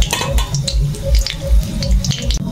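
Dry red chillies fry in hot oil for a leafy taro greens dish, a close, loud, busy crackle and spatter with irregular popping bursts throughout.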